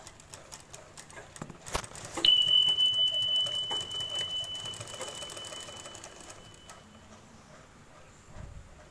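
A sewing machine stitches shirt fabric in a steady rapid whirring run that fades gradually after a sharp start, close by, with a faint high whine and no talk.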